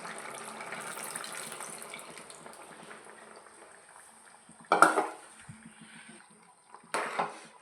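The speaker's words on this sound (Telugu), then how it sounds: "ఇప్పుడు చింతపండు పులుసు వేసుకుందామండి." Tamarind water is poured into a simmering curry of brinjal, potato and drumstick. A steady pour fades over several seconds, followed by a couple of sharp clattering knocks near the pot. No one speaks.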